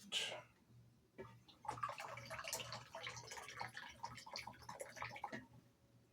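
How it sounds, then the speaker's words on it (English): Black coffee splashes and trickles as it is poured into a cup, a soft, close liquid pour lasting a few seconds after a brief initial splash. "I'll pour myself a little more coffee"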